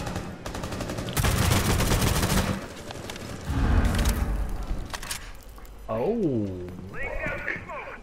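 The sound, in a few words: gunfire in the video game Rainbow Six Siege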